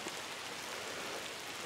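Soft, steady rain patters in a faint, even hiss with no voices, outdoors during a hunt with tracking dogs.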